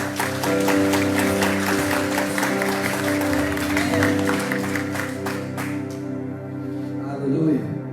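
A church congregation applauds Jesus during a sermon. The clapping is loud and steady for several seconds, with voices mixed in, then thins out toward the end.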